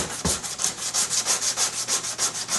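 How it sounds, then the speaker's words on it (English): Hand sanding of body filler on a car rear diffuser during paint prep, using a sanding sponge: rapid back-and-forth rasping strokes in an even rhythm, close and with no talk. "I'll go ahead and sand this whole little area down in here"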